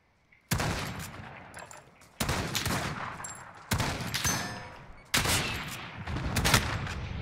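Gunfire from the video game Modern Warfare: four loud, sustained bursts of rapid automatic fire, each starting abruptly and separated by brief pauses, with no talking.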